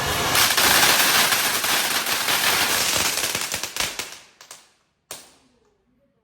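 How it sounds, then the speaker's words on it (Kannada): A long string of firecrackers rattles off in a dense, loud burst of rapid cracks for about four seconds, then thins to a few scattered pops and one final sharp bang. "ಏನ್ ಸೌಂಡ್ ಮಾಡುತ್ತಪ್ಪ ಪಟಾಕಿಗಳಿದು"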